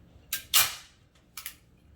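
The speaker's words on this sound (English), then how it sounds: "So I got my staple gun here. And I'm just going to re-staple it to the wood." A staple gun fires staples through chicken wire into wood while a guinea pig hutch is repaired, giving three sharp snapping shots close by, the middle one loudest, alone without talk.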